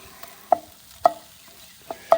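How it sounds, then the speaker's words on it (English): Drained hominy, still a little moist, scraped and stirred in a hot pan on a kettle grill for a ham and hominy casserole: four sharp spatula scrapes at uneven intervals over faint frying, close and fairly quiet, no talk. "Let's go ahead and dump in our hominy. This is drained hominy."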